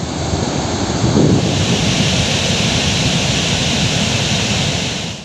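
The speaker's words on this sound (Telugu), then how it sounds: "ఇప్పటి వరకు వర్షాలు లేక బోసిపోయిన ఈ 2 జలపాతాలు ఇప్పుడు జలకళతో పరవళ్లు తొక్కుతున్నాయి" Waterfalls swollen after heavy rain in the Telangana forest, a loud, continuous roaring rush of water heard up close with no break.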